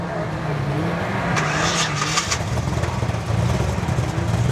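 A rally car's non-rotary engine rumbles and revs loudly nearby at the Geelong Revival 2023, with a brief higher burst partway through, no talking.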